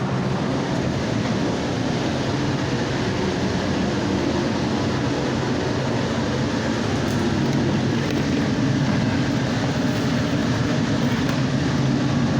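A Valley Metro light rail train passing by outdoors, heard as a steady, loud broadband rumble and rush that holds for the whole stretch without letting up, with no voices over it.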